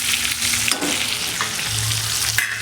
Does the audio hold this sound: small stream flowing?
no